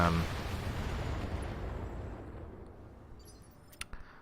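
BattleTech mech unloading all of its weapons at once in a video game: a loud sustained barrage of booming blasts that slowly decays, with a few sharp cracks and pops near the end.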